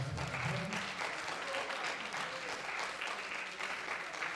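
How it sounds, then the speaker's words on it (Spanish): An event audience applauds as a professor is introduced, giving a faint, fairly steady round of clapping that lasts a few seconds at some distance. "Fuerte el aplauso para la profe."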